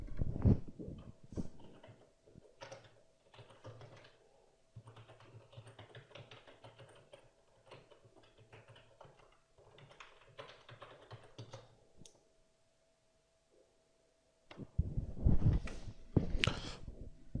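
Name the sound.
typing login details on computer keyboard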